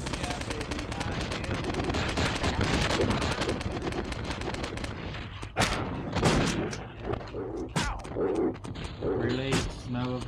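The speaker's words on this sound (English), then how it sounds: "So he starts off shooting me?" Enemy gunfire in the video game Paradise Lost, dense rattling bursts running continuously through the first half, then breaking into separate sharp shots with a few louder cracks toward the end.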